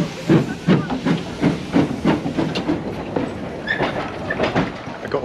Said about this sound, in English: I got a wee bit close to the steam train.